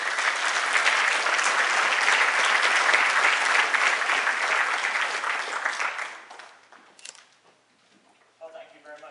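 An audience claps loudly and steadily to welcome a speaker at a Gigabit Breakfast Club talk in Cleveland. The sustained applause fades out after about six seconds and gives way to a voice.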